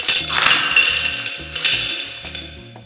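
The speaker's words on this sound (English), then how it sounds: "I really recorded money going down the drain." Metallic clinking and rattling of coins tumbling and scraping down a metal drain, loud and close, several quick clatters over a few seconds.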